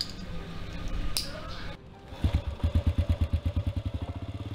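A motorcycle engine putters on the way to the ferry to Penang Island, first as a low rumble and then as a close, rhythmic thumping of rapid, even pulses.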